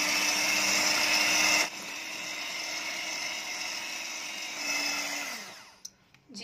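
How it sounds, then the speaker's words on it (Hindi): An electric beater whirring at high speed through eggs and sugar for a strawberry and vanilla cake batter, a loud steady motor drone that drops in pitch briefly, swells again, then winds down and stops. "अब हम इसको अगेन कर लेंगे बीट, अच्छी तरह से मिक्स कर लेंगे और अब हम इसे कर लेंगे बीट"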